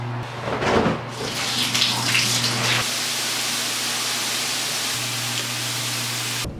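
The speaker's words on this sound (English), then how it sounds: "time for the inaugural shower" A shower runs in a bathroom with a steady, close hiss of spraying water over a low constant hum, the spray louder and more uneven in the first few seconds, with no voices.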